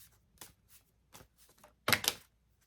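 Tarot cards shuffled by hand in several short bursts of riffling, ending in a louder, denser flurry near the end, close and clear with no talking.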